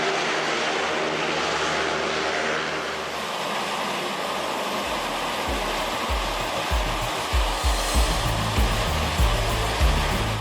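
A US Navy SSC hovercraft powered by four MT7 turbines spools up, a rising roaring whine that grows louder and more pulsing toward the end, with a low rhythmic thrum building underneath.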